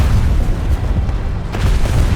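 A deep, rumbling boom fills the whole stretch, a sustained low roar like a heavy video game explosion with dense, noisy crackle above it.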